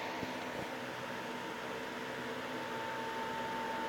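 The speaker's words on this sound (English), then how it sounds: "That's a fan. My fan is loud as hell" A loud electric fan runs steadily in a room, a constant broadband whir with a faint hum, unchanging for the whole stretch with no talk over it.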